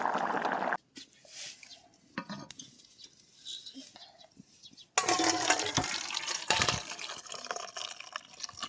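A cooked egg and potato mixture is poured out with a wet, splashing sound that starts loud after a few quieter kitchen moments and continues steadily.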